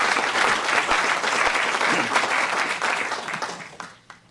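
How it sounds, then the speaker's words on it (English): An audience at a symposium keynote applauds together, a dense, even burst of clapping that holds steady before fading away near the end. "maybe we'll give him the applause now"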